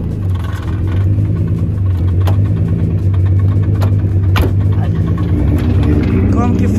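A Nissan GT-R runs with a steady, close, low engine rumble, while people talk over it with a few clicks and knocks.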